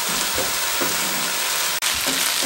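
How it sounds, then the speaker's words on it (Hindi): Chicken and vegetables fry in a pan over a medium flame, giving a steady, close broadband sizzle with faint stirring scrapes, one brief dropout, and no voices. "मीडियम फ्लेम करने के बाद हम तकरीबन 2 मिनट वेजिटेबल के साथ चिकन को मज़ीद"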